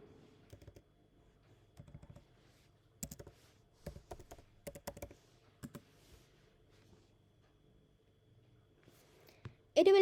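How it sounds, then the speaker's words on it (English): A password typed on a computer keyboard in a quiet room: scattered clusters of crisp key clicks, bursts of several quick strokes separated by pauses, ending in a louder sound. "Type your password."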